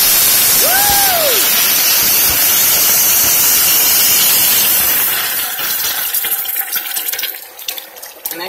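Hot boiled water pours steadily into a simmering pot of curry pork chops, a loud broad rushing hiss that thins and sputters toward the end, with a brief exclamation near the start.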